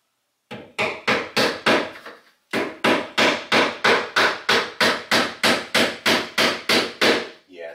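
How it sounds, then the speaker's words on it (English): Hammer blows drive nails into cement backer board, a steady run of about twenty sharp, evenly spaced strikes after a short pause, loud and close with no talk. "Hopefully I can hammer my nails in the concrete board without causing any issues"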